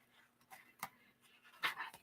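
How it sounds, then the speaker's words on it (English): Dogs pant and give soft whimpers somewhere in the background of a quiet room, faint and intermittent, with breathy puffs coming in irregular bursts. "There go the dogs."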